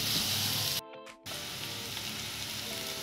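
Finely chopped tomato, with onion and chili, sautés in a pan for a restaurant-style garlic fenugreek bhaji. It gives a steady, close hiss of sizzling that cuts out briefly near the start, then resumes at an even level.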